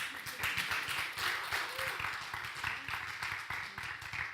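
Audience applause at an all-female panel discussion, a steady wash of many hands clapping that holds fairly even throughout with slight swells, moderately distant in a hall.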